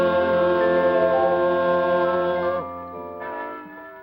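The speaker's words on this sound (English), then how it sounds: "when you hear the church bells ringing this weekend" Church bells ringing loud and close, rich sustained tolling tones layered over one another, fading partway through before another strike rings out again.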